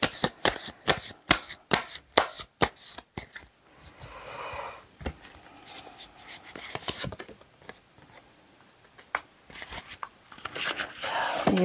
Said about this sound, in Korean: 카드 2장 더 뽑겠습니다